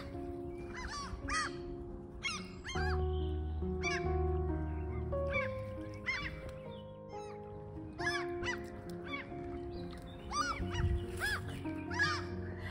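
Crows and seagulls outdoors on a Norwegian shoreline, giving repeated harsh caws and honking gull calls that overlap in an irregular chorus, some near and loud, others farther off, over a steady background hum.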